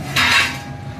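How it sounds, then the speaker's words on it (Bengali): Metal spoon scraping and clinking against a pan while chili, onion and spice paste are stirred together, one loud close scrape with no talk. "এবার সব একসঙ্গে ভালো করে মিক্সিং করবে।"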